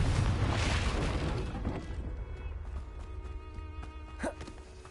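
A Confringo spell explosion in Hogwarts Legacy bursts with a heavy low boom at the start, then rumbles and decays over a couple of seconds, followed by a brief sharp crackle near the end.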